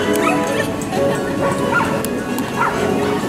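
Small dogs yipping and barking at a mini agility race during a dog sports day, several short bursts over a busy outdoor crowd background.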